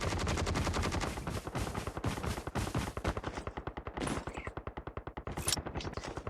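Rapid automatic gunfire in the Call of Duty video game on the Alcatraz map, dense bursts of shots that loosen into distinct quick cracks, loud and continuous with no talking over it.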